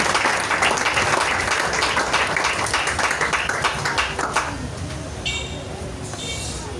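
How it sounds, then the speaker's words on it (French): A church congregation applauding and cheering to praise the Lord, loud sustained clapping that tapers off after a few seconds, followed by quieter room sound. "Est-ce qu'on peut acclamer le Seigneur pour ça?"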